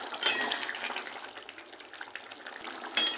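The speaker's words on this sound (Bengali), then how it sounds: "ঢাকা দিয়ে দিয়েছিলাম, ঝোলটা ফুটছে" Prawn curry gravy with potatoes boils under a lid, giving a steady soft bubbling and sizzling hiss, with brief louder bursts at the start and end.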